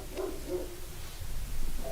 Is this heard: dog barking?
yes